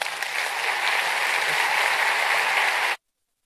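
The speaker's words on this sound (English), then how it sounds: "Ladies and gentlemen, please, another round of applause for Mr. Mark Zuckerberg, the founder and CEO" An audience at a summit gives a steady, dense round of applause that fills the room for about three seconds and then cuts off abruptly, with no talk.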